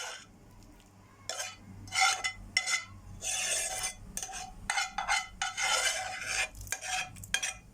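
Minced meat being stirred and scraped in a pan for béchamel pasta bake, with repeated bursts of spoon-against-pan scraping over a faint sizzle, close and fairly loud.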